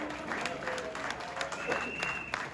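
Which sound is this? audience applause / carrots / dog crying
audience applause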